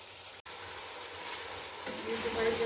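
Beef chunks sizzle steadily in a hot pot while cooking for nihari, a loud continuous frying hiss that swells slightly after a brief stir.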